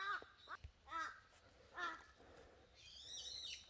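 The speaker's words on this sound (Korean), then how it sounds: "까마귀들이 왜 난리야" Crows cawing in a cold winter setting near a mountain bark-roofed house, several harsh caws in a loose sequence, fairly close and loud, ending with a longer overlapping squabble of calls.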